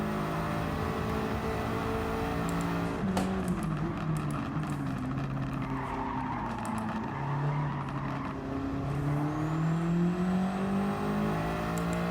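A Lancia Delta HF Integrale rally car in Gran Turismo 7 drives steadily, its engine note loud and continuous, rising and falling in pitch as it accelerates and shifts, with no talk over it.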